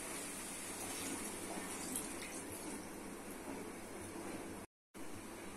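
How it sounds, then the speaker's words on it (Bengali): Water pours steadily into a cooking pot of simmering curry with potato, eggplant, taro, long beans, shrimp and dried fish, a continuous rushing splash with a brief dropout near the end. "দিয়ে দিচ্ছি জল।"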